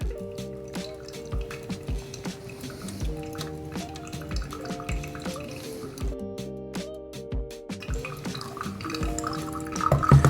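Hot water trickles and drips through a pour-over filter of Kenya Peaberry light-roast coffee grounds, a soft, steady liquid patter close by with small clinks of equipment.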